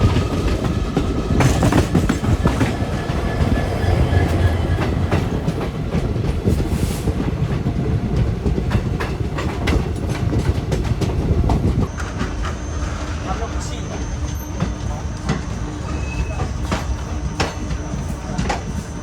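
The Kanchanjangha Express, a passenger train in North East India, runs on its rails with a continuous loud rumble and rhythmic clickety-clack of wheels over joints, heard from on board and easing slightly toward the end.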